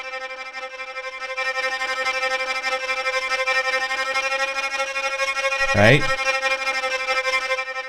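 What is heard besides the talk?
sound put through distortion amp simulator, Terminator soundtrack style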